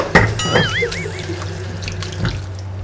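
Water splashes and pours at a kitchen sink as mushrooms are rinsed for a Thai steamed mushroom dish with spicy dipping sauce, with a brief whistling tone early and soft clatter nearby.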